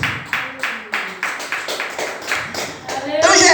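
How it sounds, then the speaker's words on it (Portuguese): Church congregation claps in slow unison for Jesus during a Portuguese-language service, about a dozen even rhythmic claps close by, then breaking into louder dense applause at the end. "Bate as palmas para Jesus, vai."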